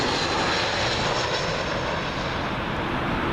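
A British Airways Airbus A320 arriving from Manchester on Heathrow's runway 27L gives a loud, close, steady jet roar that fills the whole stretch without letup.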